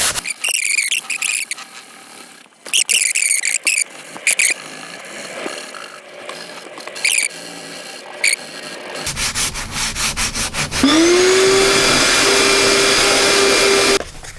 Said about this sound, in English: for the contoured areas, I'm going to use a 600 grit sandpaper for a lot more fine tuning to get all those details aligned up